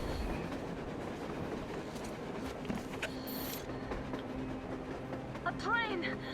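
A train rumbles past in the video game Metro Exodus with a steady mechanical clatter and drone. It stays at moderate loudness throughout, and voices come in near the end.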